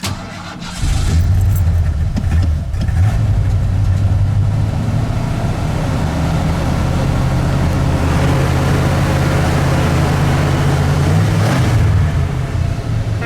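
An old junkyard truck engine, just back in timing adjustment, catches within a second and settles into a loud, steady idle that runs close and continuously to the end.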